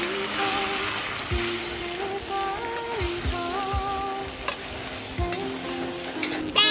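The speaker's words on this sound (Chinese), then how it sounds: "炒干水分的鸡肉来点白酒去腥" Chicken stir-frying in a wok with curry paste, plenty of ginger and a splash of liquor, a steady close sizzle broken by repeated scraping stirs of the spatula, with background tones running underneath throughout.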